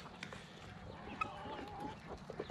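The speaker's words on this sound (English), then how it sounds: "the guineas chasing chickens" Chickens cluck and squawk as guinea fowl chase them around a farmyard, a busy stream of overlapping bird calls with one sharper cry midway, steady and fairly close throughout.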